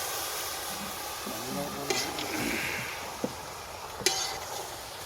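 Water poured into a hot frying pan after frying pork sets off a steady, hissing sizzle. A few sharp metal clinks ring out, and a voice speaks briefly underneath.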